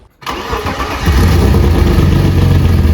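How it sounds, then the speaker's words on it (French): A BMW E36 drift car's engine cranks briefly, catches, and settles into a loud, steady rumbling idle, close by. "Ça marche, démarrage de l'auto."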